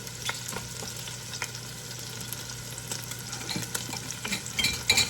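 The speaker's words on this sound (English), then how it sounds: "it's sizzling, baby. It's sizzling." Steady, close sizzling and crackling of beef searing in a pan for French dip sandwiches, with occasional scrapes and light clatter, no voices.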